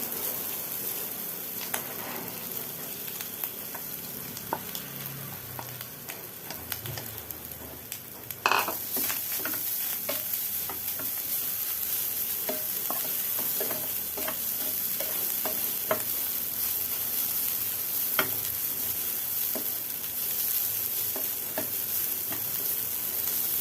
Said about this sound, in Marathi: हा खोबऱ्याचा खीस आहे तो आपण भाजून घेऊया